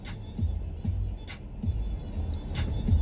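A street cleaning vehicle driving recklessly on a city road, a steady engine drone with rhythmic thumping and scraping roughly every half second, moderately close, no talking.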